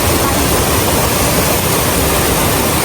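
Shower Falls in Dipaculao, Aurora roars as a dense, constant wash of falling water, loud and close, with no pauses or other sounds breaking through.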